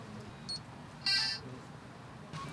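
A card is tapped on a Leocard fare validator aboard public transport, and the validator answers with a brief electronic beep, followed by a softer tone, all fairly quiet against a steady background hum.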